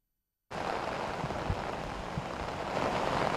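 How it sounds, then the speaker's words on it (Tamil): Heavy cyclone rain during Cyclone Fengal in Villupuram starts abruptly and pours steadily as a dense, loud, continuous roar, with no talk over it. "விழுப்புரத்தில் 6 மணி நேரத்திற்கு மாறாக இந்த கனமழையானது, அதாவது மிக கனமழையானது கொட்டி வருகின்றது."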